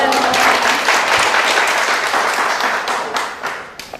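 Loud, close applause from students at a real estate law lecture, dense clapping that thins out toward the end.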